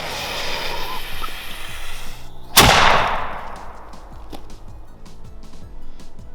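A cannon fires grapes: a single sharp, loud blast rings out midway, followed by a fading rush, with softer handling noises before and after.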